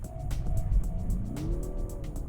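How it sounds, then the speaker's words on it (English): A 2022 Mazda CX-30 AWD Turbo spins its wheels while stuck in snow, the engine revving to a rising whine over repeated whooshing bursts from the tires, close and fairly loud with no voices. "the problem with the spinning of the wheels is I am basically building up ice underneath"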